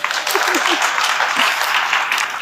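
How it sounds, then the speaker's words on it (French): Loud, close applause from the audience at the NISA 2021 awards ceremony, a continuous dense patter of many hands with a few voices calling out underneath. "La tenue mérite des applaudissements."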